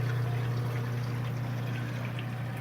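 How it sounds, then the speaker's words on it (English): Aquarium water pours by gravity through a chamber onto bio beads and down into a reef tank sump, a steady, rushing trickle over a constant low pump hum, close and without talk. "the gravity just pours down into the chamber, down onto the bio beads, down into the sump"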